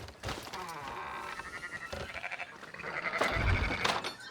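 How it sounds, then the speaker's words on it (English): Sheep in Red Dead Redemption 2 bleat in a few wavering calls over a busy game soundscape, with a louder, closer bleat near the end and a brief voice at the start. "Fine sheep."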